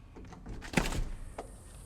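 A door to an open lanai at a new home in North Port, Florida slides open with a soft thump and brief rolling scrape, close by and fairly quiet.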